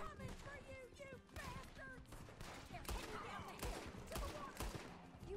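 Rapid gunfire bursts in the Red Dead Redemption 2 video game during a horseback chase, sharp repeated shots mixed with game effects while a player talks excitedly over them.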